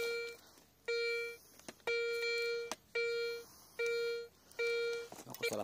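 Garrett 250 metal detector sounding a series of five sharp electronic beeps in a steady on-off rhythm outdoors, each tone lasting around half a second, with faint rustling between them.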